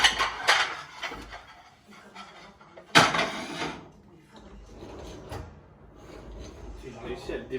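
Dishes and cutlery handled at home: two sharp clattering bursts of metal and crockery, followed by lighter scattered clinks, close by in a quiet room.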